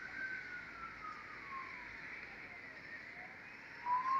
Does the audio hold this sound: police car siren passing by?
yes